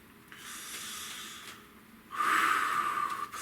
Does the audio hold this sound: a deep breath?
yes